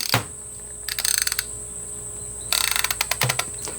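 A new Duratech long ratchet spinning freely, giving two bursts of fast, rattling clicks separated by a quiet pause, close and fairly loud with no voices.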